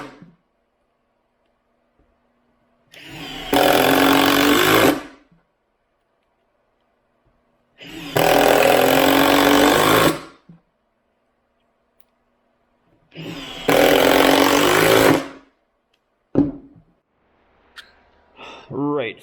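Impact drivers from Milwaukee and Metabo drive screws in a head-to-head test, three loud bursts of about two seconds each separated by silence, with a short rattling and a voice at the end.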